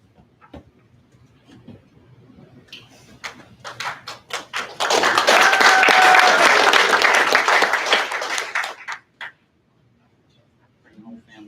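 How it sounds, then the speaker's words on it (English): Audience at a graduation ceremony claps, first a few scattered claps and then a loud, full round of applause for several seconds that stops abruptly into near silence. "Can we get a second clap for that mass guard though?"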